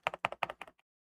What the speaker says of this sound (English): This keyboard has got a really nice click to it.